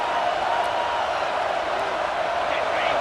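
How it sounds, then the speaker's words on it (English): Stadium crowd at a snowy Ohio State versus Michigan college football game, a steady broad roar of cheering and noise filling the whole stretch at an even level, distant and continuous. "the crowd coming to life here trying to help this defense down in the red zone"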